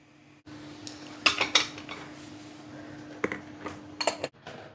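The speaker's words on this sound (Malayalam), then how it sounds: "നമുക്കൊരു പ്ലേറ്റിലേക്ക് തട്ടി കൊടുക്കാം" Masala puttu is tapped out of its steaming mould onto a plate with a few clattering metallic knocks in clusters, over a low steady hum.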